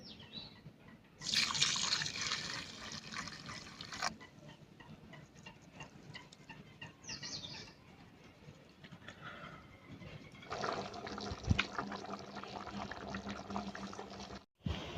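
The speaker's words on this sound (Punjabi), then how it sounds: "ਖਿਚੜੀ ਨੂੰ ਥੋੜਾ ਜਿਹਾ ਪਾਣੀ ਪਾ ਕੇ ਇਹਨੂੰ ਭਿਉਂ ਲੈਣੇ ਆ" Water is poured into a pot of rice and green lentils in two bursts, splashing and trickling, with quieter dripping and handling sounds in between.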